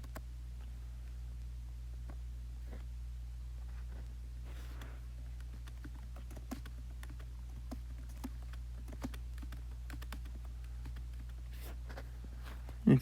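Light clicking taps of a computer keyboard during homework, scattered irregular clicks at close range, faint over a steady low electrical hum, no voices.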